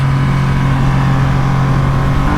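A 2020 Triumph Rocket 3 R motorcycle, big three-cylinder engine, pulls hard under acceleration around 45 mph, a loud, steady, deep drone with a strong low hum heard close from the rider's position, no voices.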